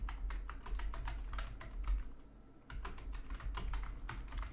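Fast typing on a computer keyboard while entering simple text, with quick bursts of key clicks, a brief pause in the middle, then more steady tapping, fairly quiet and close.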